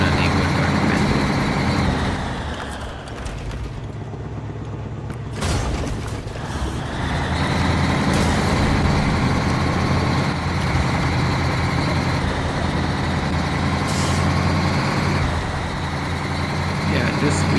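A titanium crane truck in the game Snowrunner drones with a steady low engine rumble and mechanical clatter throughout, close and continuous, dipping briefly midway with a hiss, while someone talks over it.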